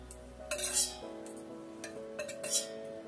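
Cashews and raisins fried in ghee for a Kozhikode beef dum biryani, with a spoon scraping and clinking against the pan in a few bright bursts over a soft background hum, close and moderately quiet.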